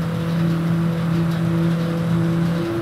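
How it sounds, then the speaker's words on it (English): Race car engine from GTA V driving at speed, a steady mid-pitched engine drone with a sustained whine holding near and loud for the whole stretch, no voices over it. "the car seems pretty fast"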